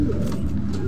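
A pet pigeon held in hand gives a short, low cooing burst, close and fairly loud against a faint background.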